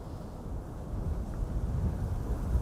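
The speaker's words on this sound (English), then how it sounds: "But it is definitely windy." Wind buffets the microphone outdoors at Amsterdam Schiphol Airport, a continuous low rumble that swells slightly louder toward the end, with no talk.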